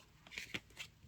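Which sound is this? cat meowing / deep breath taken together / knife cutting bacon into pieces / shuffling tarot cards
shuffling tarot cards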